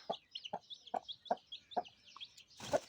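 Chickens clucking in a steady series of short calls, fairly close, ending in a louder squawk; higher chirps from chicks run underneath.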